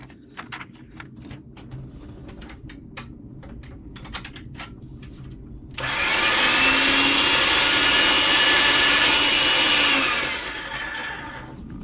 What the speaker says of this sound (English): I'm going to get this through the pasta machine on the thinnest setting